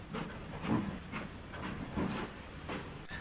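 Trains running in the background of a Trainz railroad simulator route, a steady hiss with soft recurring clicks and rumbles, faint and continuous throughout with no talk.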